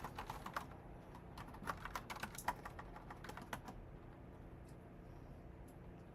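Rapid clattering keystrokes on a new computer keyboard during a coding session, an irregular burst of close clicks that thins out into quieter, sparse taps toward the end.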